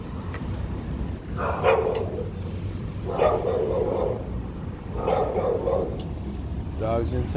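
Dogs in a Puerto Rico backyard bark in three short bursts about every one and a half seconds, moderately close, over a steady rumble of background noise.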